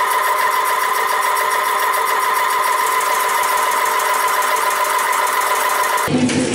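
A metal shaper machine runs at about 100 strokes a minute, squaring up the faces of a steel part for homemade adjustable parallels, making a steady rhythmic mechanical clatter and hum, close and even, before stopping abruptly near the end.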